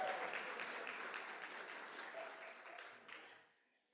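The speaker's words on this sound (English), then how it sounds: "Give them a round of applause." Loud, sustained clapping from an audience at a 2025 CPS MLK oratorical competition, a dense crowd roar that holds steady for several seconds before fading out at the end.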